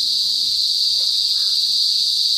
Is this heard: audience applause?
no